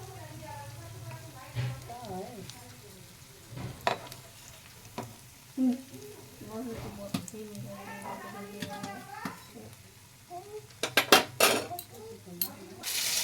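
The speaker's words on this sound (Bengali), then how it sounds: "নিয়ে আরও যে টিক্কিগুলো আছে এইভাবে দিয়ে ভেজে নেব" Burger tikkis frying in oil in a pan, a steady soft sizzle with stirring scrapes and clinks of utensils against the pan, near and moderately loud, with a person talking over it at times.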